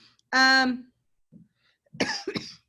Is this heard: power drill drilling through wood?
no